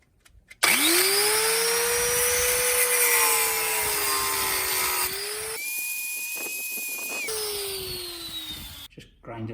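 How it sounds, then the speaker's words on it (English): A power drill bores through a metal angle bracket at close range: a sustained, loud whine that shifts pitch partway through, then cuts off at the end. "I've drilled a hole in this angle bracket"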